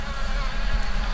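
Honeybees at an open, overflowing beehive during a heavy nectar flow give a dense, continuous buzzing hum, close and steady, over the full short moment.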